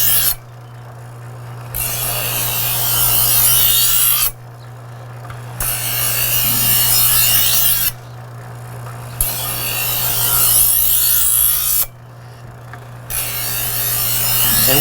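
An electric knife sharpener hums steadily while a blade is drawn through its guided slot four times, each pull a harsh grinding rasp lasting about two seconds, separated by short gaps where only the motor drone remains.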